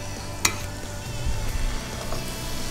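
Chicken pieces laid skin side down in a hot sauté pan, sizzling and frying steadily with a brief sharp clatter at the start, close and alone.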